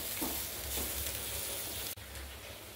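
Grated coconut sautéed and stirred in a pan, a steady soft sizzle with scraping stir strokes throughout, alone and fairly quiet.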